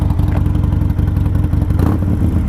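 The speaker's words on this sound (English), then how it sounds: "Hit the start button. All right, there we go. Bike is running." A Harley-Davidson motorcycle engine idles steadily up close, a low, throbbing rumble with an even pulsing rhythm and no speech over it.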